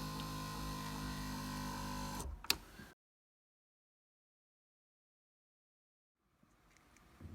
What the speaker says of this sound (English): now we'll power the seat again. I can already hear it speeding up.